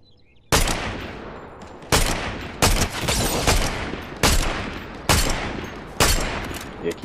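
Heavy video game gunfire in bursts, with loud, near volleys starting abruptly and recurring every second or so, layered sustained shooting filling the whole clip without audible talk.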